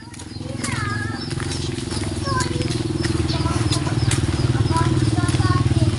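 A motorcycle engine rumbles along a road and grows steadily louder as it approaches, with people talking and bird chirps over it.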